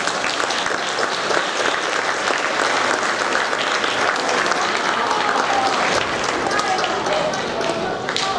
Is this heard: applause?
yes